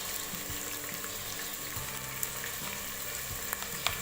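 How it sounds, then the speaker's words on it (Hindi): Mutton pieces frying in a pan for Delhi-style korma, a soft, continuous sizzle with faint clicks and stirring taps, fairly quiet and steady throughout with no voices. "गोश्त को मैंने बहुत अच्छे से भून लिया"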